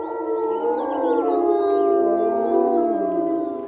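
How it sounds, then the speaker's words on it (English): Wolves howling together in a close, loud chorus of long, overlapping drawn-out wails that rise and fall, sustained without a break and with no talking. "Their howls can be heard more than 4 miles away, and wolves can recognize the individual calls of their pack."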